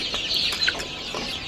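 Hill chickens on a farm, fed a mixed mash of soybean meal, paddy, wheat and rice, cluck in short repeated bursts close by while eating, with no talking.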